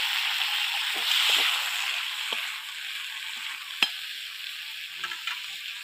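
Mrigal fish, potato and garden kohlrabi cooking for a sour tamarind curry in a pan, giving a steady bright sizzle with occasional clicks and scrapes of a spatula, close and even, with no talking.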